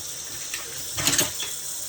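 Instruments rinsed under running water, a steady hissing flow with a brief louder clatter of metal pieces in the stream partway through.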